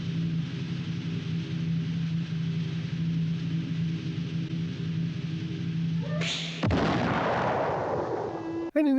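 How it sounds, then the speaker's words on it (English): Cartoon firecrackers in a 1940 Tex Avery animated short go off near the end as a sharp crackling blast, following a long, quiet stretch of a low musical drone. "he decides to light up these firecrackers, and we all know it's going to build up to something big"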